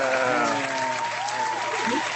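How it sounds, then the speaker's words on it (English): Applause from an audience cheering young filmmakers at a show, a steady dense clapping that fills the whole stretch at close range, with faint voices mixed beneath. "DJ, can I get some applause for the young filmmakers here?"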